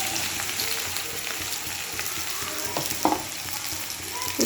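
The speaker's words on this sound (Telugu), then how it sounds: "ఈ కట్ చేసుకున్న కాకరకాయలు ఇందులో వేయించుకుంటాను." Pieces of bitter gourd fry in hot oil over a medium flame, giving a continuous close sizzle with occasional stirring clinks and pops.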